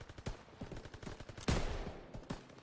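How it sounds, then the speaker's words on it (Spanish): Bursts of machine gun fire in a World War II battle in Call of Duty WWII, rapid rattling volleys with a louder blast midway, steady and fairly close. "Ametralladoras, abrid fuego."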